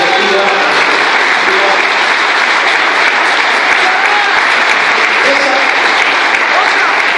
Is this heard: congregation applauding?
yes